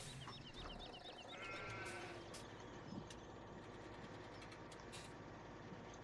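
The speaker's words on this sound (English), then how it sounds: "there's the sheep" Sheep bleat repeatedly in a Farming Simulator 17 game, short quavering calls at moderate distance over a low continuous engine-like hum, with no talking.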